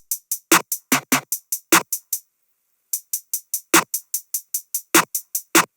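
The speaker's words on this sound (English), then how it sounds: "And then we have the hi-hats," Crisp, bright hi-hat ticks in a quick steady pattern, some hits accented with a lower thump, pausing briefly before resuming at the same rhythm, programmed in FL Studio for a trap beat.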